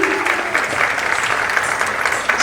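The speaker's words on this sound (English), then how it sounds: "Big round of applause." An audience at a music concert gives sustained, dense applause, an even wash of many hands clapping throughout the short moment.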